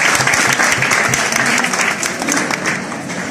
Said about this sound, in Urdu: آپ پہلے میرے لیے تالیاں بجا دیتے رہے